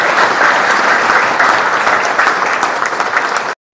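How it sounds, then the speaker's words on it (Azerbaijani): Dense, steady applause from a crowd at a memorial event honoring a fallen soldier, saluting the Azerbaijani army, sustained and loud throughout before cutting off abruptly. "Gəlin, xahiş edirəm, Azərbaycan ordusunu ürəkdə bir alqışlayaq."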